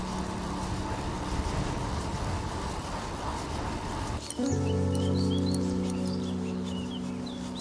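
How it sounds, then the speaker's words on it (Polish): Birds sing with several bright chirps and whistles after an abrupt cut from a broad road rumble, the calls fairly close over a sustained tonal background. "Ptaki."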